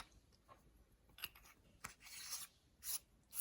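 A battery slides back into a Wurkkos FC11C flashlight and the knurled tail cap is screwed on, producing faint close clicks and soft rasping thread-rubbing sounds in a quiet room.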